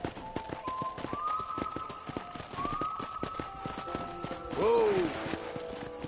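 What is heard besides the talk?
horse hooves while riding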